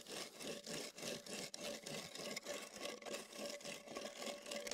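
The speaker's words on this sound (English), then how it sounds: "you're gonna screed your concrete slowly in sawing motions, not quick" Screed board dragged across a wet concrete slab in slow back-and-forth sawing strokes, a faint rhythmic scraping rasp repeating steadily, no voices.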